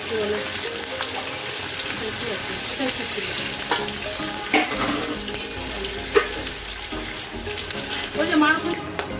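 Potatoes sizzle loudly in hot oil, with steady crackling and occasional clinks and scrapes of a utensil stirring in the pan.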